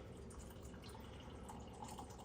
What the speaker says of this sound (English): Pour it in the bowl over your pellets.